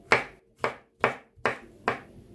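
Five evenly spaced knife chops through soft young mushrooms onto a cutting board, crisp and close, with quiet gaps between strokes.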